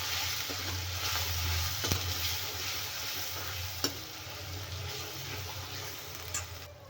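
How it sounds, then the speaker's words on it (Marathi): Turmeric is stirred into a frying mixture in a pan. A steady sizzle runs throughout under soft scraping strokes, with a few sharper taps of the spoon, close and moderately quiet, and no talking. "अर्धा चमचा हळद हलवून घेऊया व्यवस्थित"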